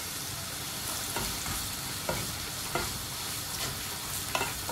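Turmeric and chili powder fry in hot oil for a Sri Lankan style tin fish curry, a loud continuous sizzle broken by regular scraping stirs.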